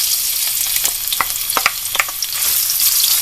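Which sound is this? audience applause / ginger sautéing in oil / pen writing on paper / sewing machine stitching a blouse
ginger sautéing in oil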